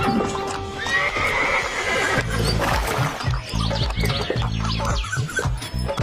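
A cart horse whinnies loudly near the start, then steady clip-clop hoofbeats fall in a regular rhythm, with a second neigh partway through over a dense animated-cartoon sound bed.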